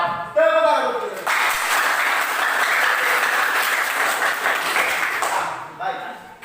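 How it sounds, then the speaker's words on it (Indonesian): Classroom audience bursts into loud, sustained clapping for about five seconds, dense and even, with a voice speaking just before and after. "Tepuk tangan untuk kita."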